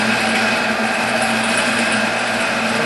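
A Monarch EE 10" x 20" tool room lathe runs at 500 RPM, giving a steady, even mechanical hum and whir close by with no talking.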